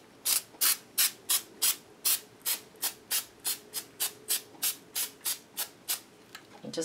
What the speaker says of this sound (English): I'm grabbing my spray adhesive.